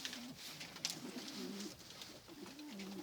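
Adana pigeons brought indoors out of the snow coo softly, repeated low rolling calls in a quiet room at close range, with faint rustling between the calls.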